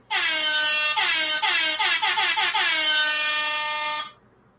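A loud air horn blares, stuttering in a rapid series of short bursts before holding one long blast that cuts off abruptly.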